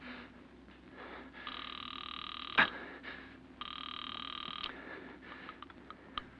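A telephone bell rings in a 1946 radio drama, two sustained rings separated by a short gap, with a sharp click between them over a quiet background hiss.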